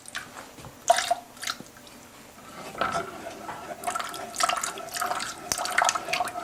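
Coconut milk poured into a saucepan of blended sweet potato soup gives a soft, intermittent liquid trickle and splashing with occasional light clinks, fairly quiet with faint background noise.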